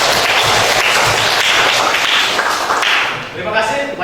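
Loud, dense classroom applause from students, a continuous burst of many clapping hands that tapers slightly toward the end.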